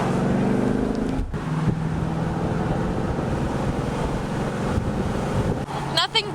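Steady, loud wind buffeting a microphone inside a Ford Mustang GT convertible driven with the top down, a continuous roar mixed with road and engine rumble throughout, with a brief dip near the start.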